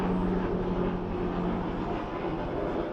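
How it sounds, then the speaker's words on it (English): A helicopter passing overhead, heard as a loud, steady broadband rumble with a low rotor throb that holds throughout without any voices. "Helicopter."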